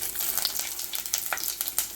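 Chopped ginger sizzling in hot oil with browned fenugreek seeds in a pan for a Kerala-style fish curry, a steady crackling fry with brief stirring scrapes, close and moderately loud with no talk.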